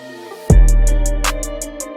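An FL Studio beat kicks in with a heavy, booming kick and sustained bass after a quiet melodic lead-in, while a soft, regular hi-hat pulse ticks on top and a faint swelling transition effect sits low in the mix.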